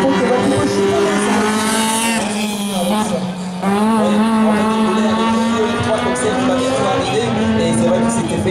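Rally car number 59 at a Wallonia rally, its engine revving hard and shifting as it races past, loud and close, over a busy crowd.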